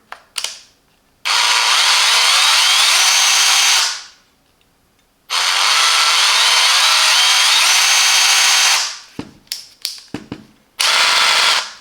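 A Parkside PABH 20-li C3 cordless drill runs in two long, steady whirring bursts, then gives a string of quick trigger stutters and one more sustained run. It is loud and close, with no talk.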